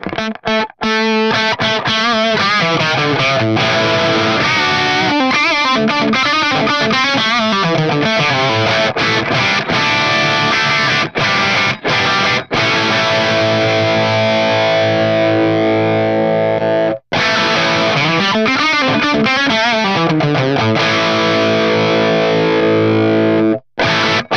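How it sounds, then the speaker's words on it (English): Electric guitar played through an FAS AX8 modelling a Plexi amp at edge-of-breakup, ringing chords and sliding notes with a gritty, slightly distorted tone, loud and continuous with only brief gaps. "This is really good for getting those edge of breakup tones as well, which, I mean, you don't normally get with a Plexi"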